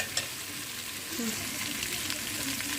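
Spices and ginger-garlic paste fry in a pan with a steady, close sizzle, broken now and then by brief stirring sounds.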